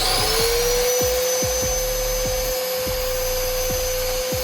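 A homemade grinder with a motor-driven blade in a pot runs continuously, giving a loud, steady high-pitched whine with a constant motor hum close by.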